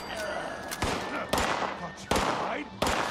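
Four loud, sharp gunshots ring out at roughly even intervals in Fallout 76, each with a short ringing tail, over a low background hum, while a person speaks between the shots.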